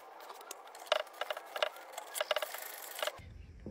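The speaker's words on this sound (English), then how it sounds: "And then you just screw in your 2 mounting screws." Screws are turned by hand into the mounting holes of a secondary lock on a vinyl sliding door, giving faint, close clicks and small scraping ticks in an irregular run that stops abruptly near the end.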